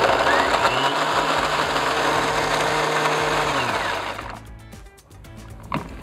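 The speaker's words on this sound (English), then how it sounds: "Pop the lid on and blend it until it's nice and smooth and everything's combined." A blender whirs loudly and steadily as it purees a cilantro lime taco marinade for flank steak, its motor pitch shifting slightly before cutting off near the end, leaving a few faint clicks.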